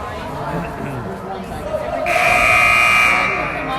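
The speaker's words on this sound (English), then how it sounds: "the buzzer tells us that we are at the end of the first period." A long, steady electronic end-of-period buzzer at a youth U10 game sounds over crowd chatter and arena noise, starting partway through and holding loudly until the end.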